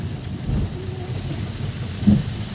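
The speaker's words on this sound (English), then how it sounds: "And today it is again raining for the last couple of days" Steady rain falls at Duck Park on Foreshore Road in Srinagar, a dense, even hiss with a low rumble underneath. It stays constant throughout, with one slightly louder patch near the end and no voices.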